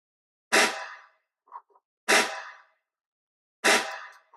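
Three loud, separate snare drum hits, each with a long reverb tail fading over about a second, set in a hip-hop beat mix for a track, with a short quieter knock between hits.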